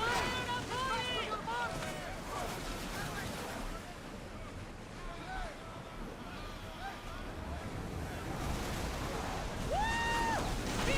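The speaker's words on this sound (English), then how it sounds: "Feel that wind!" Steady, loud wind rushes over the sea as a sailing ship cuts through the water in Assassin's Creed Odyssey, with brief shouted voices and whistling tones rising near the start and end.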